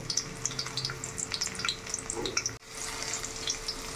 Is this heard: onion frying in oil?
yes